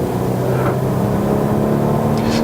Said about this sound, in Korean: 엔진 사운드가 좋네요